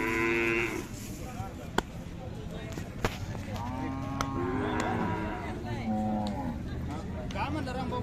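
Khillar cattle moo several times at the Sangola cattle market, long drawn-out lowing calls close by, overlapping at points, with a few sharp knocks and a steady background hum.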